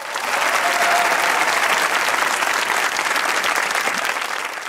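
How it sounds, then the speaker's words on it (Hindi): A studio audience at a comedy talk show breaks into loud, dense, sustained applause that fills the room steadily from start to finish with no pauses. "वो तालियां बजाए"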